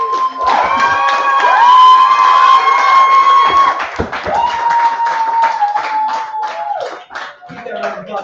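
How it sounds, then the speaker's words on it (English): A crowd at a poetry slam in Berkeley claps and cheers loudly and steadily, with whoops and sustained shouts riding over dense applause for several seconds before it starts to thin out near the end. "Keep that round of applause going"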